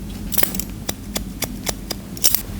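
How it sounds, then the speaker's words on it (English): Scissors snip repeatedly while point cutting a man's medium-length wavy, curly hair, producing a steady series of short, crisp, close-up clicks over a quiet room. "I'm going to point cut into this. I'm point cutting."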